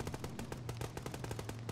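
Rapid, steady bursts of automatic gunfire from someone firing blindly in a video game, fairly faint and continuous throughout.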